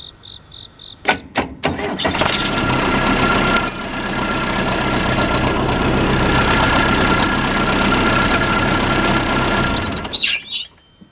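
An old abandoned backhoe that has sat unused for ten years cranks in a few short bursts, then catches and keeps running with a steady, rough idle before cutting off, with faint birds chirping in the background.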